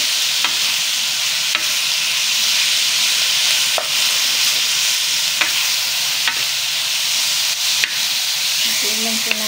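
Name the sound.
ground pork being stir-fried in a pan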